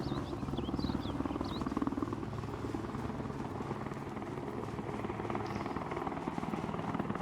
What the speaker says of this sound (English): Are you shooting at me, helicopter?